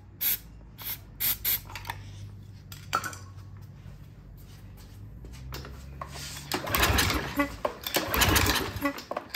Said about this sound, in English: let's spray some starting fluid in there